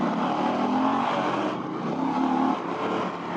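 An Indian Challenger motorcycle accelerating on a test ride, its engine a loud, continuous roar that rises and dips slightly in pitch, close to the rider with no talking.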